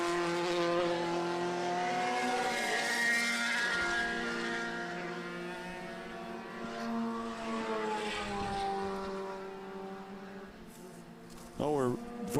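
Small, low-displacement race car engines whine and drone past during the 2014 O'Reilly Auto Parts Grand Prix, rising and falling in pitch, with voices talking over the engine noise.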